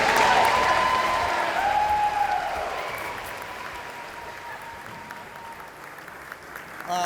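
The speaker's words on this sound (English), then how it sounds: "let's give them another big round of applause" Big round of applause from the audience at an eighth grade recognition ceremony, loud at first and gradually tapering off, with cheering voices in the crowd early on.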